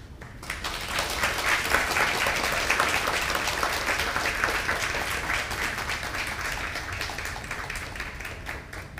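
An audience at a special commemorative lecture at the Toyama Glass Art Museum gives steady, dense applause after the talk, holding even for several seconds before easing slightly.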